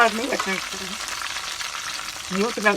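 Red chillies frying in hot oil, a soft sizzle broken by short scraping stirs near the start and again at the end, with a quieter stretch between.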